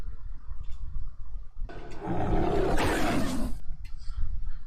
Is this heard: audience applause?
no